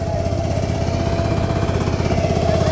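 A tractor engine chugs loudly and close while stuck in a muddy rice paddy, a rapid rough pulsing throb that holds steady throughout.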